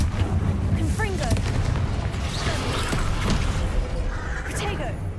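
In the video game Hogwarts Legacy, a Confringo spell fires with a series of booming, crackling blasts amid continuous combat effects and a voice, the action loud and dense throughout.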